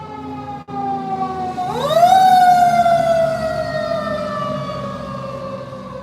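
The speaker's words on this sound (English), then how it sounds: "do you really have to put the siren on and make all this noise at midnight?" A loud siren wails up in pitch and holds a long, sustained tone, close by, with a low engine rumble beneath.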